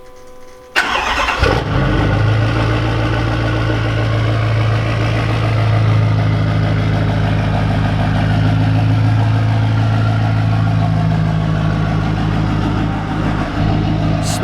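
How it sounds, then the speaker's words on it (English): A diesel pickup truck, an L5P Duramax with an S369SXE turbo, cranks on a cold start and fires up, then settles into a loud, steady diesel idle with a rough, rumbling clatter. "I would consider this a cold start."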